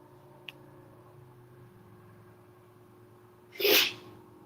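A single sharp dog sneeze stands out against a quiet room, preceded by a tiny click, with a faint steady hum in the background.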